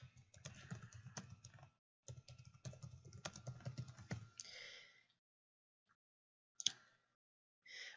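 Close, quiet typing on a computer keyboard in two quick bursts of rapid key clicks separated by a brief pause, followed by a few scattered faint clicks and rustles.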